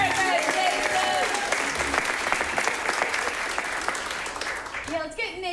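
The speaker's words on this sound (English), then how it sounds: "Give them a round of applause, ladies and gentlemen" A live audience at a showdown game event applauds in a steady wash of clapping that fades toward the end, with voices speaking over it.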